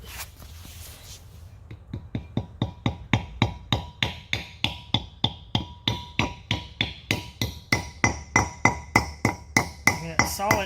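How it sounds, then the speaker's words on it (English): Small hammer tapping a dust cover into a wheel bearing hub on a 2000-2011 Ford Focus, a steady run of about thirty sharp metallic taps close by, growing slightly louder and quicker toward the end, with no talking. "take your little hammer,"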